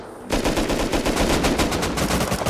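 Base turrets in the Rust video game open up in rapid automatic bursts, a dense, continuous loud rattle of gunfire that begins abruptly and keeps going without a break.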